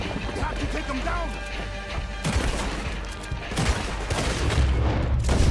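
Sharp gunshots crack out from an enemy firing down from a tower in Red Dead Redemption 2, a loud burst of reports mixed with impacts and a rumbling background, with someone talking over parts of it.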